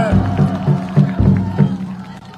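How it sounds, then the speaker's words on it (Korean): A crowd at an outdoor presidential campaign rally in Jung-gu, Seoul, claps and cheers in welcome, loud and close, with rhythmic drum-like thumps pulsing through the din. "힘찬 박수로 환영해 주시기 바랍니다"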